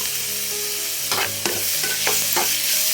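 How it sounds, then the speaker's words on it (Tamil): Curry leaves and coriander stir-fried with shredded chicken and onion in a pan, a steady close sizzle broken by several scraping stirs of the spatula, with no voices. "கருவேப்பிலை கொஞ்சமாக கொத்தமல்லி போட்டுக்கலாம் போட்டுட்டு நல்லா வணக்கிக்கலாம்"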